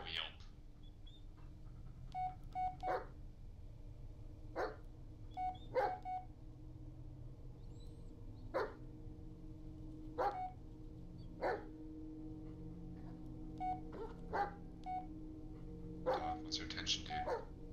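Dog yips and short barks in the horror video game Blair Witch, repeated at irregular intervals across the stretch, fairly faint over a low ambient hum, with quiet whispering now and then.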